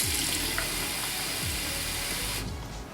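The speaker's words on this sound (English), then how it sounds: "open up the back part right here and fill the water inside" Tap water runs steadily into the rear reservoir of a Waterpik Cordless Advanced water flosser, a continuous close splashing hiss that eases off near the end.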